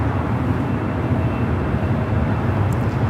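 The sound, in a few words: United Dreamliner arriving at LAX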